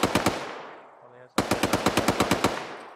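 ArmA 3 gunfire during an infantry squad firefight: a short rapid burst, a brief lull, then a longer run of loud, evenly spaced automatic shots close by.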